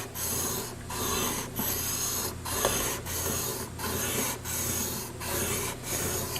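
A steel chisel is pushed and pulled in even strokes across a coarse sharpening stone at a 35-degree angle, each pass giving a loud, rhythmic gritty rasp, about eight strokes in a steady back-and-forth beat with no voices.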